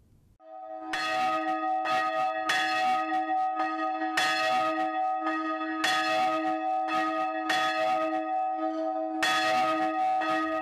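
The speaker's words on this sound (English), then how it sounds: "Members of the present-day Lutheran Church are being called by the sound of the bell, announcing the beginning of Sunday worship." A Lutheran church bell in Finschhafen, Morobe Province, tolls for Sunday worship, struck again and again in a steady irregular rhythm with a long ringing hum between strikes, loud and clear with no voices.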